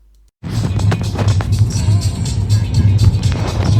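An engine-swapped car runs and drives, a steady close engine drone with road and cabin noise, people talking over it throughout.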